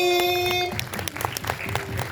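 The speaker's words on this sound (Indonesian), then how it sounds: "tepuk tangan buat Kenzi" Applause at a film press conference, scattered claps breaking in after a tonal musical sting fades, moderately close and uneven.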